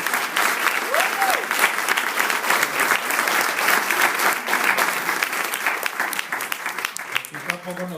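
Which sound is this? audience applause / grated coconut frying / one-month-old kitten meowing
audience applause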